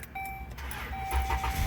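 A car engine cranking and catching after a new Ever Start battery goes in, a thin electronic tone first, then a low rumble swelling up toward the end of a very short burst.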